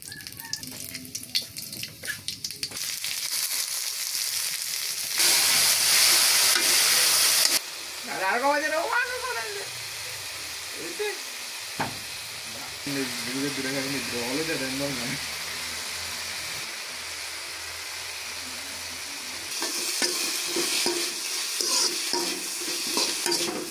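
Potato bhaji and egg curry fry in a pan, giving a steady close sizzle and hiss with stirring scrapes throughout, while a person talks over the cooking.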